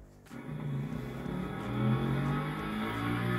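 A motorcycle engine revving after repair work, a loud, close, steady mechanical roar that rises in pitch and holds with throttle blips throughout.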